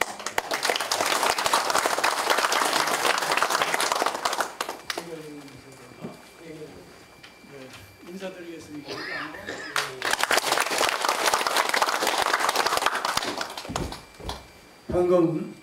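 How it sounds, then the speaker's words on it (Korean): At an academic conference, an audience applauds to welcome a speaker, with loud, dense clapping at the start, a break where a voice talks, then a second full round of applause that fades near the end. "모두들 뜨거운 박수로 맞이해 주십시오"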